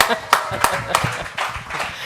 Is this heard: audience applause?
yes